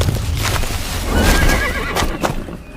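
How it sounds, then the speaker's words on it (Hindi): A horse gives a loud, close whinny as its rider suddenly reins it in mid-gallop. Hoof clip-clops and rustling run underneath the long neigh, and no one speaks. "ड्रैकुला ने अचानक अपने दौड़ते घोड़े पर लगाम लगाई।"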